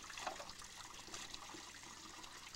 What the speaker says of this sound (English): Drawing water.